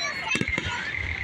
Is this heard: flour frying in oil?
no